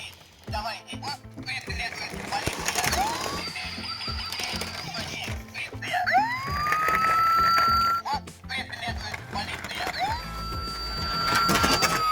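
A toy UAZ Bukhanka police van plays an electronic siren with rising and falling wails that swell and fade, alongside clicks and rattles of the toy and some talking nearby.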